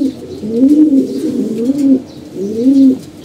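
Pigeons kept at home coo close by in three rounded, rising-and-falling phrases, loud and clear against a quiet background.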